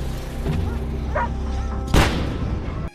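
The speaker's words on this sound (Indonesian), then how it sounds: "Murti pun menakuti babi hutan tersebut, dengan meledakkan petasan di sekitar ladangnya." A single loud firecracker blast goes off near a farm field, one sharp boom at about two seconds over a steady rumbling background with no talk.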